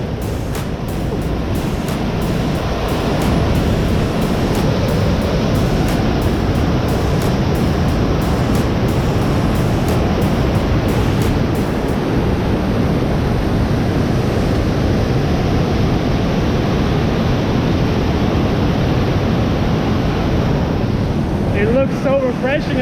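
Wisconsin's highest waterfall, at Pattison State Park, pours as a continuous loud roar of falling water, heard from the top of the falls, with some wind buffeting the microphone.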